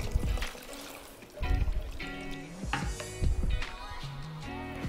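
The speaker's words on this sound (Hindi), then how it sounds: "यहाँ मैं इसको और पतला करूँगी और इसमें हम डाल देंगे पानी।" Water is poured into dal in a cooking pot, giving irregular splashing and trickling bursts with clinks, faint and close, with no voices.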